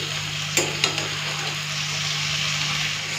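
Small mourola fish fry in hot oil in a wok, a steady broadband sizzle running throughout with a couple of brief clinks from a spatula near the start.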